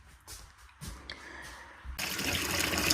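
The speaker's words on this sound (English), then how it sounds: "We have water running here." Kitchen tap on a raw-land ranch turned on during a plumbing inspection, starting with scattered handling noises before a loud, steady rush of running water takes over for the last second.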